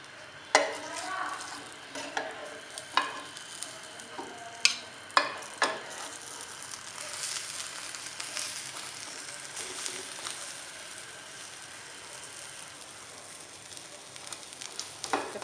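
An omelette frying in a pan gives a steady broadband sizzle for the whole stretch, broken in the first few seconds by several sharp utensil scrapes and clicks against the pan. No voices are heard.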